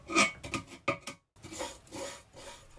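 A screwdriver scrapes old tape off a narrowboat, close rough rasping strokes in quick short bursts, a brief pause, then longer scraping passes.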